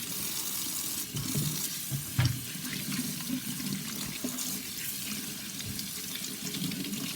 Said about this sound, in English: To get started, I will nicely rinse my plantain.